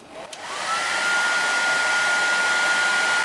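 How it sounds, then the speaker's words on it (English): A newly assembled hair dryer, set to its highest power, switches on and quickly rises to a steady, loud whooshing roar with a constant high whine, running close by. "After assembly, you need to check the hairdryer to see how it works."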